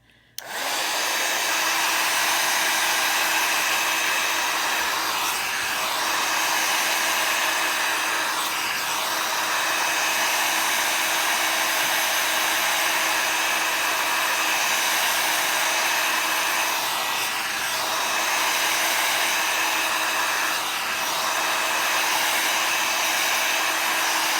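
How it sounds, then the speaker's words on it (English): A craft heat tool blowing over stamped ink on a card to dry it, a loud, steady fan whine and rushing air held for over twenty seconds, close and alone. "get the heat tool a second, so we can dry that"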